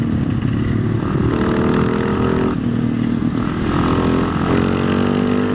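A Husaberg 650 motard single-cylinder motorcycle ridden on a road, its engine droning loud and continuous with rising revs and gear changes, wind rush constant throughout.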